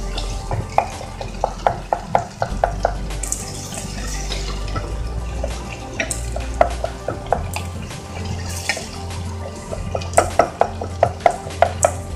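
Potato curry stirred and mixed in a pan, giving a low sizzle under repeated scraping and clinking spoon strokes against the metal, close and steady, with no voices.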